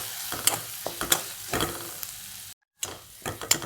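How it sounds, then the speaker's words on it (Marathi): Fenugreek and dill greens with green chillies, garlic and a pinch of turmeric being sautéed in a pan, with soft sizzling under sharp, irregular clinks and scrapes of a spoon stirring. "परतून घेऊया."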